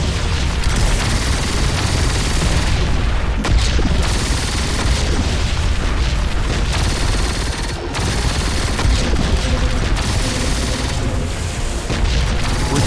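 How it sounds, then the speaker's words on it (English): Rapid, dense explosions and rattling gunfire in the sci-fi strategy game Siege of Centauri, loud bursts piling over one another with barely a pause. "Still exploding."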